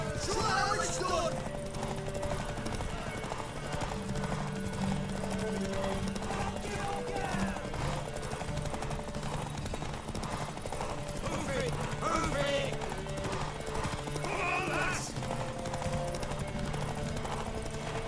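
Horse hooves clip-clop steadily through a Witcher 3 game scene, a continuous rhythmic patter layered under voices and busy game sound, with occasional sharp bangs.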